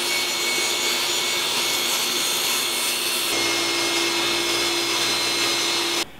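A power saw cuts a wooden board in half for a chicken coop door build, a loud continuous whining roar that deepens partway through as the blade bites, then cuts off abruptly near the end.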